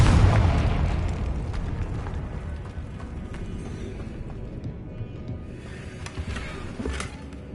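A Confringo fire spell explodes in the video game Hogwarts Legacy, a loud fiery boom up front that rolls off into a dense, rumbling decay with a few smaller pops trailing behind.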